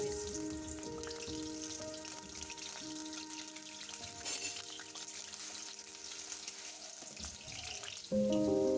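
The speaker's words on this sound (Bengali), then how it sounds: "এবার আমি একটা মাঝারি সাইজের আলু কেটে রেখেছিলাম, সেগুলো আমরা ভালোভাবে ভেজে নেব।" Cut potato pieces sizzle in hot oil in a wok, making a continuous, fairly soft bubbling crackle that grows a little louder and sharper near the end.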